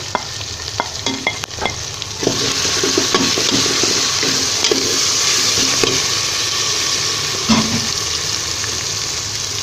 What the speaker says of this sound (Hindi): ये देखिए ये फ्राई हो रहा है।